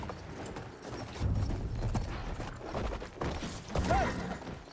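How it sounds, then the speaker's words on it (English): Horse hooves clip-clop in the Battlefield video game, a busy run of hoofbeats over rumbling engine and battle noise, with a brief whinny near the end. "I'm gonna go after the train with a horse"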